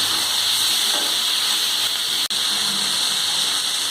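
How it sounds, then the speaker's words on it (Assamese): Tomatoes sizzle and fry steadily in a frying pan while being stirred, a loud continuous hiss with a brief break partway through, no voices. "এইখিনি মই এতিয়া ভালদৰে মিহলাই লৈছোঁ।"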